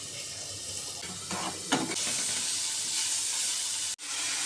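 Semolina (suji) frying in a pan with turmeric, a steady close hiss and sizzle with scraping stir strokes through the middle and a brief clunk near the end.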